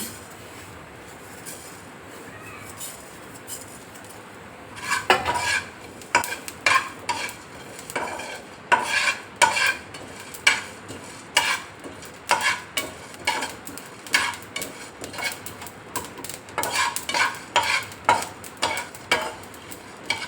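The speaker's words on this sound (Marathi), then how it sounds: "हरभऱ्याची डाळ भाजते त्याच्यातच आपण बाजरी टाकून घेऊ" Chana dal and pearl millet roast in a pan, quiet at first, then a busy run of sharp scraping stir strokes and crackling sizzle bursts in an irregular rhythm, close and fairly loud, with no talking.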